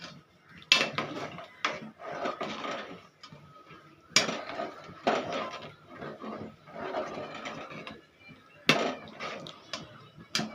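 A spoon stirs melting jaggery in a pot for adai payasam, giving intermittent close scraping and clinking strokes in uneven bursts separated by short pauses.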